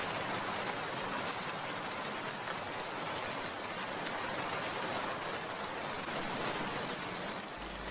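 Heavy cartoon rainstorm pours down as a dense, continuous hiss of rain, loud and unbroken throughout with no voices.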